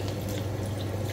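Water runs steadily into a cooking pot with chicken feet, a continuous splashing stream with a low hum underneath.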